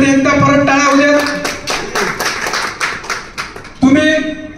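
Audience at a PRO training event in a Nashik hotel claps for a guest, a burst of applause of scattered hand claps between stretches of speech, fairly near and moderately loud.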